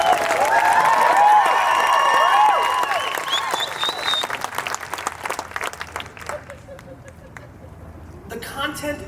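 A crowd at a Q&A event claps loudly at first, then the applause thins and fades into scattered claps and murmuring voices before a brief final burst.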